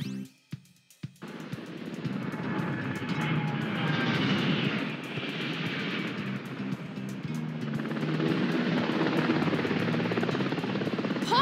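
Paw Patrol Air Patroller aircraft from a video game, flying with a steady whirring rotor and engine drone that swells in after a couple of short clicks and holds loud and continuous.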